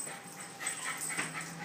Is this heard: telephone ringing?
no